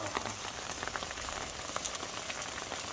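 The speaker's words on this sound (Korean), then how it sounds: "비가 오고 그러니까" Steady monsoon-season rain falls outdoors during a pork belly and soju meal, a dense, even patter of drops striking surfaces close around, with no voices.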